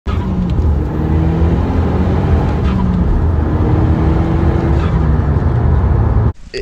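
A Cupra K1 car with a standard exhaust and a loud intake, its engine revving hard and sustained close up for several seconds, a strong whirring drone that cuts off abruptly at the end.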